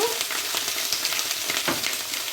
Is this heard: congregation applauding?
no